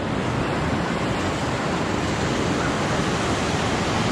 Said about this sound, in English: A little splashing action there